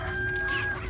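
A rooster in the Resident Evil 4 game clucks in a short burst, close and clear, alone with no talking.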